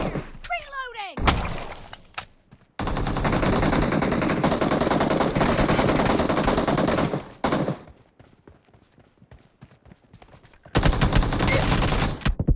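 Rapid video game gunfire during a team match, long sustained bursts of loud automatic shots broken by short pauses, with shouted voices over the action.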